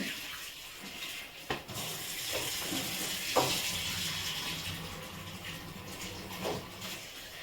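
Running water splashing in a sink while meat pieces are rinsed, with a few sharp knocks and clatters over the steady flow.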